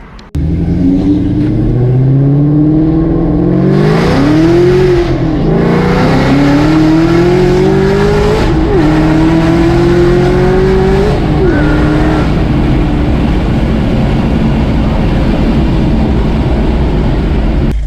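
A loud, powerful 1,000-horsepower Mustang race car engine revs hard and accelerates at full throttle, pitch climbing through several gear changes, close and continuous.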